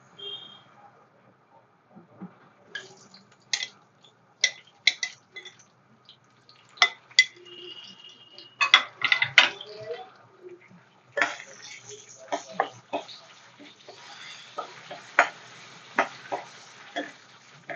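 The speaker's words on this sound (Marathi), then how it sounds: "आपण हे सर्व फोडणीत घालून देऊया." Whole spices go into hot oil for tempering a dhaba-style chicken do pyaza: green and black cardamom, cloves, a cinnamon piece, asafoetida and a bay leaf. Sharp clinks of utensils scatter over a faint sizzle that grows in the later part.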